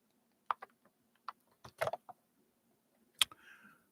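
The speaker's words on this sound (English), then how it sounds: "Stop typing so fast, Richard." Sparse, distinct clicks of someone typing on a computer keyboard, a few separate keystrokes and short bursts in a quiet room, nearby and fairly faint.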